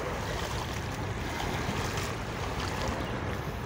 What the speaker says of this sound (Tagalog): Ngayon, nandito ako sa may dagat,